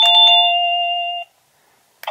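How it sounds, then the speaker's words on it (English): An AVANTEK DB-12W wireless doorbell plays a loud electronic two-tone chime, sustained briefly and then cut off to silence before a short burst restarts at the very end. "Now, if I press this, I can cycle through the different chimes."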